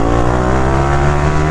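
A modified Yamaha MT-15 motorcycle engine held at full throttle gives a loud, steady, close-up drone with a constant pitch and no talk over it.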